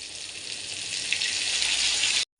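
Water hits a hot frying pan of sautéed spices and keeps up a loud, steady hiss and sizzle for about two seconds before stopping abruptly.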